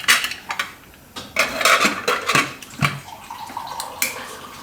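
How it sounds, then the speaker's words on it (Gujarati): A pressure cooker lid is handled and closed in a home kitchen, with a few close metallic clanks and scrapes at an uneven rhythm. "તો કુકરનું ઢાંકણું બંધ કરી દઉં."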